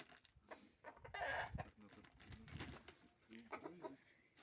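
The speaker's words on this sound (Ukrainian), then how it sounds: "Мій півник." A rooster crows loudly nearby, with other fowl clucking and a person talking in the background.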